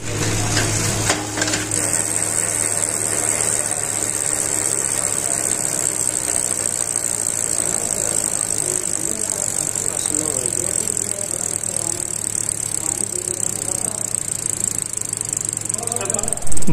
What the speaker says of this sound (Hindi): तो ये कैसेट में साउंड कैसा आया ये आप लोग चेक कर लीजिए